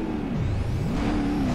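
A rear-engine drag semi truck in BeamNG Drive revs loudly, its engine note dipping and then climbing again in a steady, close mechanical drone.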